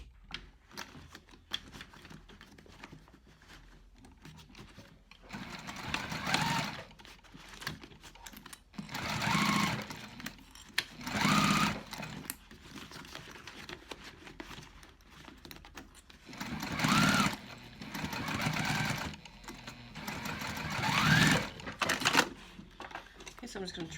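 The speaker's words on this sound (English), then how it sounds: "Now I'm going to pop back to the machine. I'm going to stitch this closed, and then I'm going to go ahead and stitch closed the pocket as well." A sewing machine stitches a backpack pocket closed in bursts of rapid mechanical chattering, each run lasting a few seconds and separated by quieter pauses with small handling sounds, close and loud.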